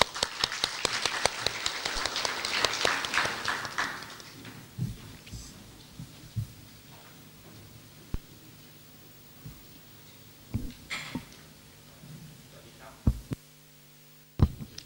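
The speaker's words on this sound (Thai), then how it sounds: "ขอเสียงปรบมือด้วยค่ะ" Brief scattered applause from an audience at an official opening ceremony fades within a few seconds, leaving low room hum with occasional isolated knocks and thumps.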